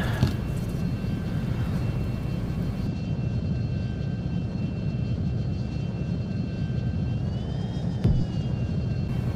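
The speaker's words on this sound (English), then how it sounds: "we're now going to taxi off this runway" Steady jet engine roar of an F-22 taxiing on a runway in the flight simulator game F22 Total Air War, a constant loud drone with a faint whine on top.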